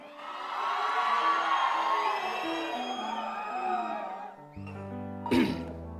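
An audience cheers and whoops loudly and at length at a Telugu stage event, with sustained voices and whistling-like cries that fade. A brief, sharp burst of shouting follows near the end.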